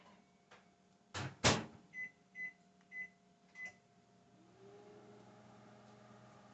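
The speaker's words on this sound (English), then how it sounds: "So we'll stick the mocha one in the microwave" A microwave oven heating mocha fudge: a door thuds shut, a few keypad beeps sound, then the oven hums quietly and steadily as it starts running.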